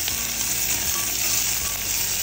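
Curry leaves and onion with spices sizzling in hot oil for palak rice, a dense, loud, unbroken crackling hiss heard up close with no voices.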